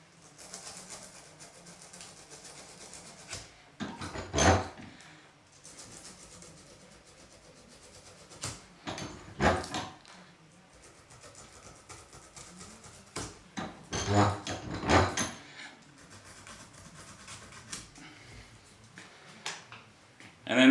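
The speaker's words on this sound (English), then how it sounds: "Use maybe some 80 grit sandpaper 80 or 60 grit's alright" Coarse 80-grit sandpaper scrubs the hosel of an LA Golf putter in short bursts of rasping strokes, each lasting about a second, separated by quiet pauses and repeating several times at close range.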